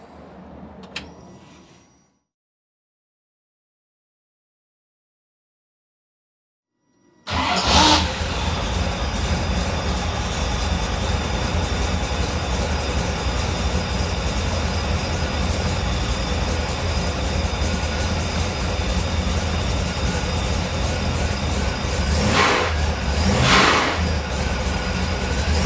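A car engine fires up after an Auto Meter wideband air/fuel gauge install: after a short silence it catches and settles into a loud, steady idle that runs unbroken to the end.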